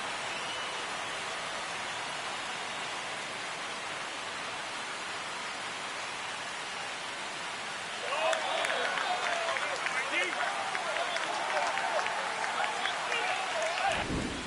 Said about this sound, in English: This crowd has really come alive.